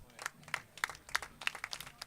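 Sparse, scattered clapping from a few fans at a baseball game, individual claps at an uneven pace, faint and distant in open air.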